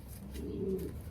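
A racing pigeon held in the hand coos softly in a low, rolling murmur, one continuous burst close by with no talk.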